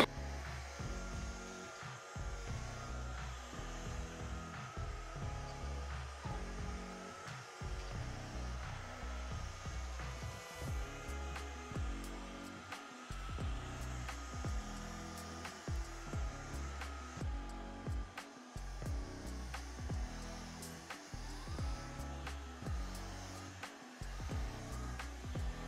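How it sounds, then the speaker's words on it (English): A cordless rechargeable vacuum cleaner runs steadily close by, a continuous whirring motor hum with irregular rattling pulses as it moves, and no talk over it. "So I would like to state that this vacuum cleaner is chargeable."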